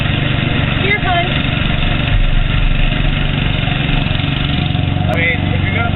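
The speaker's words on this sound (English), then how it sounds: "if you're going to mow a lawn, you really ought to mow a lawn like this." Small engine of a radio-controlled lawn mower running at a steady drone, fairly loud and constant, with people talking over it.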